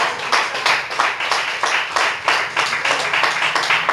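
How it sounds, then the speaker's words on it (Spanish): A church congregation bursts into applause during a sermon, a loud, dense patter of many hands clapping in regular pulses throughout, with no speech over it. "Denle un aplauso al Señor."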